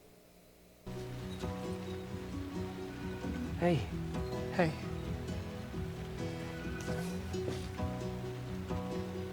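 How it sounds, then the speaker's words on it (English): Steady rain falls throughout, a dense constant patter that starts abruptly and continues under music and brief spoken words. "It sounds like it's raining."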